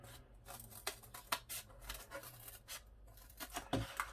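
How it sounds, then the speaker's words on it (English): Scissors cutting out a paper shape for a mask sculpture, a close, quiet series of crisp snips and paper rustles in an irregular rhythm, with no talking. "So now I'm going to cut this shape out."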